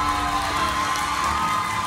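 Studio audience on a television talent show, a loud, continuous roar of cheering and clapping crowd noise that stays steady and close throughout the short stretch.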